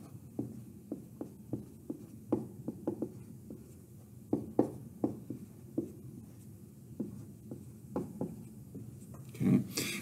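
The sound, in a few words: writing and underlining numbers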